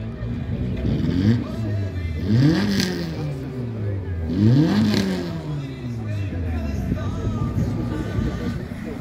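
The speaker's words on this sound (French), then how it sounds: "une BM en slalom, on en a déjà vu quelques-unes" A rear-wheel-drive BMW series-production car in an autocross slalom at Ancenis, its engine repeatedly revving up and dropping through the gates at moderate distance, under a commentator's talk.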